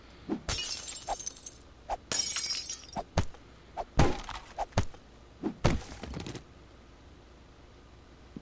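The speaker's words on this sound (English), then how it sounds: "glass-breaking sounds and stuff like that" Glass shattering as trash is walked over in the video game 7 Days to Die, several crunchy breaking bursts with thuds in between, loud and close, spread over about six seconds before fading.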